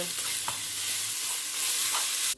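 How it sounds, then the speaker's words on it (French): Minced meat seasoned with herbes de Provence, salt, pepper, garlic and a little chili frying in a pan gives a constant, bright, close sizzling hiss, with a couple of faint spoon knocks and a sudden stop at the end. "nous laissons en fait notre viande revenir vraiment cuire"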